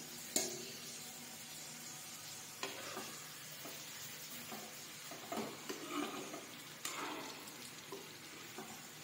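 Okra pieces deep-frying in hot oil for dhaba-style bhindi masala give a faint steady sizzle, with occasional soft clinks and stirring scrapes from a utensil in the pan.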